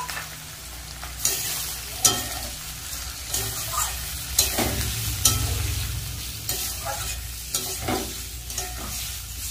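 Ground spice paste, onion, tomato and green chilli are stirred into hot oil with lightly fried potato and spring onion for a fish curry. A continuous close sizzle runs beneath repeated spoon scrapes and knocks against the pan, with no voices.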